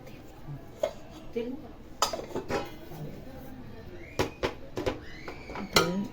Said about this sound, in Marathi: आपल्याला एखाद्या वाटीच्या किंवा प्लेटच्या साह्याने असं दाबून घ्यायचं